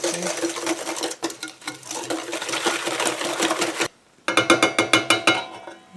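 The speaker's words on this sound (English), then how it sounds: "And I'll stir it up too." A sucanat and yeast mixture gets whisked in a bowl, giving rapid rhythmic scraping and clinking close by. After a brief pause, a quicker burst of stirring strokes follows.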